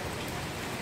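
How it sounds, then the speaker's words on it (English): Heavy autumn rain pours steadily outdoors as a dense, even hiss of drops drumming on surfaces, with no gaps and no voices. "You told Daddy that it's raining."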